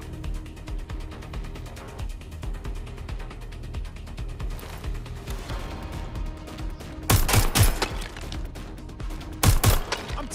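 In the video game Watch Dogs: Legion, gunfire crackles in rapid, mechanical-sounding bursts over a busy background. Two much louder, sharper volleys break out near the end.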